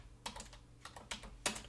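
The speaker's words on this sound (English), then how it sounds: "I'm going to type in gap" Quick typing on a computer keyboard, a handful of soft, close key clicks in short bursts with brief pauses between, quiet and alone.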